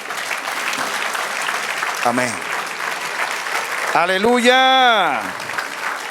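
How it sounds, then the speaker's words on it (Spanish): A church congregation applauds continuously during a worship service while voices call out over the clapping. "Denle otro aplauso al Señor."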